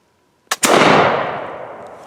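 A flintlock muzzleloader fired upside down with Schuetzen 3F black powder: a sharp pan flash crack followed a split second later by a loud, booming main charge whose roar decays over more than a second.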